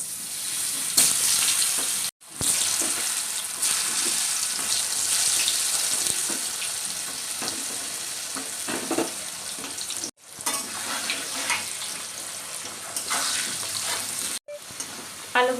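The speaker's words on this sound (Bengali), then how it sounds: "আলুগুলো আমার ফ্রাই করা হয়ে গেছে" Thin round potato slices fry in oil in a kadai, giving a steady, close sizzle with a hissing crackle that runs almost continuously, broken by a few short silent cuts.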